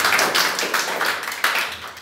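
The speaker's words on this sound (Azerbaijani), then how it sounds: "Uşaqlar bir alqış." A classroom group of children claps at a quiz final, giving a short burst of uneven hand claps that swells and fades over about two seconds.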